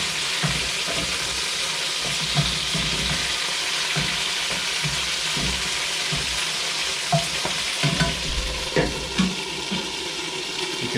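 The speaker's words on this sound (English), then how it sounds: "You can hear they are sizzling quite a lot" Padron peppers sizzle and fry steadily in a hot pan of oil, with a dense crackling hiss throughout and occasional sharper pops and spatters rising from the constant sizzle.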